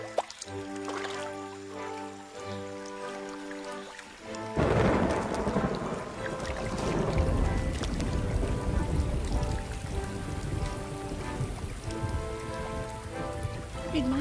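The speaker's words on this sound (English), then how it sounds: "It might look as if he has been banished into the rain" Steady rain pours down in a wild natural setting where a bird pair shares incubation, a dense, constant hiss following a short stretch of background music.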